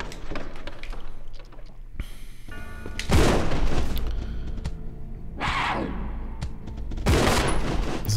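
Gunfire in the video game Resident Evil Zero HD: a few loud bursts of shots and booms with game music and effects around them, standing alone with no talk over them.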